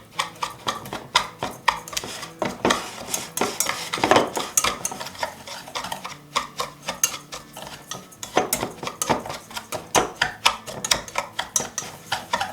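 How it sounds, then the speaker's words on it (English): A pastry blender scrapes and clinks rhythmically against a bowl as cinnamon and ingredients are cut and mixed, repeated strokes close up with short pauses between bursts. "I'm going to mix this up with my pastry blender here."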